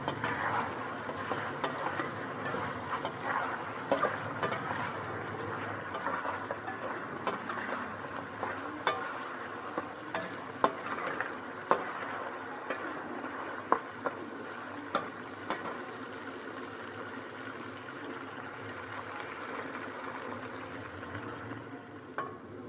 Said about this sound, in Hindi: और हम अब गोश्त को बिल्कुल फ्राई करेंगे, ड्राई कर लेंगे बिल्कुल।